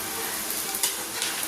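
Chili powder and turmeric sauté in a hot pan for a nei meen dry fish dish, giving a steady close sizzle with light stirring scrapes throughout.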